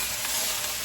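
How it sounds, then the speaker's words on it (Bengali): Potatoes fry in a new stainless steel wok, giving off a brief, even, hissing sizzle that sounds close and steady. "অল্প একটু আলু ভাজা,"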